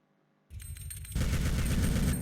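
After a moment of quiet, rapid automatic minigun fire in the game Alien Shooter 2 starts and grows louder, continuing in a dense, rattling stream of shots.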